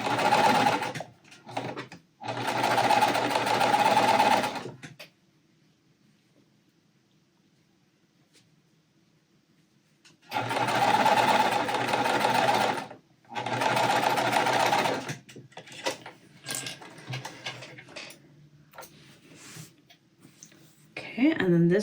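Domestic sewing machine stitching quilt pieces in bursts of steady whirring, two runs early and two later with a long quiet gap between, followed by softer handling noises.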